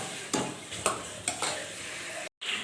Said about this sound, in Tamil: கத்திரிக்காய் எண்ணெயில் நல்லா ஃப்ரை பண்ணணும்.